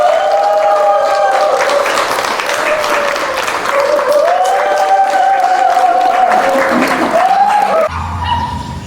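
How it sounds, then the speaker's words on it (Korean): Loud, sustained applause from a crowd as the South Korean flag is raised in the Philippines, with a dog barking repeatedly through it, cutting off abruptly near the end. "올라갈 때 박수"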